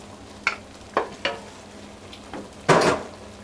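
Bacon fat melts and sizzles in a pot on the stove for red beans and rice, a soft frying hiss broken by several sharp scraping stirs and clanks, the loudest near the end.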